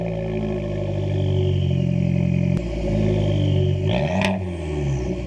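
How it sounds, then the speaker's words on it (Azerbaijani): Factory exhaust of a Fiat 500 Abarth with a 1.4-litre turbocharged 160 hp engine, a steady deep rumble that swells into a short rev near the end, loud and close. "İkinci mövzu, avtomobilə zavod tərəfindən quraşdırılmış səs boğucu sistemi."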